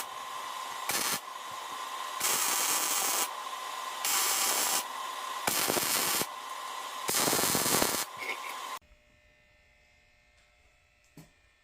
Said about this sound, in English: Gonna burn it in, weld it on, make it permanent.